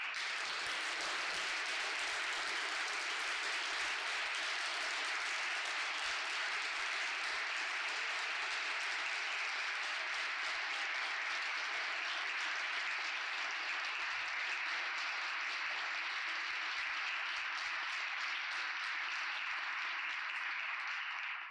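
An audience applauds the participants after a high school mock trial championship final round, a dense, even wash of clapping that holds steady throughout with no talk over it.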